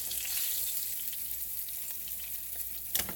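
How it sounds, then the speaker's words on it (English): Breaded pork chops pan frying give a steady, close hiss of sizzling oil, with a brief louder crackle near the end and no speech. "I haven't had them pan fried like this in a long time."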